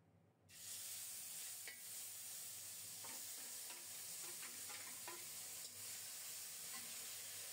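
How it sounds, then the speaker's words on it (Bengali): Ground spice paste with onion and garlic hits hot oil tempered with whole cumin, bursting into a sudden loud sizzle that keeps frying steadily with scattered pops and stirring scrapes, close up. "এখন বাটা মশলা, গুঁড়ো মশলা একসাথে মিশিয়ে ফোড়নের উপর দিয়ে দেব"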